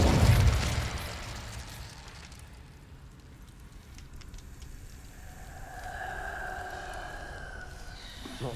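An Incendio fire spell in Hogwarts Legacy bursts with a loud, deep blast at the start, then fades into a low rumbling crackle with faint tonal hums later.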